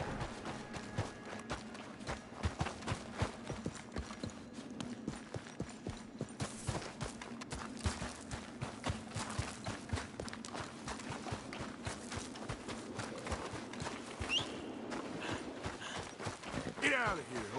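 Horse hooves clip-clopping at a walk in the Red Dead Redemption video game, a steady run of soft repeated thuds beneath game ambience, with someone talking over it.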